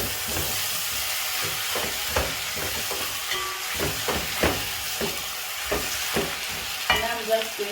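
Tomatoes soften in a pan over low heat, a steady gentle sizzle broken by repeated scraping stirs and light clacks of a utensil, close and moderately loud.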